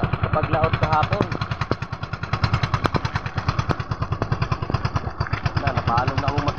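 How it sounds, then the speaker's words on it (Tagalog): Outboard engine on a small fishing boat runs at a steady idle-like throb with a fast regular pulse, loud and close, while someone talks over it. "napalong na akong makina"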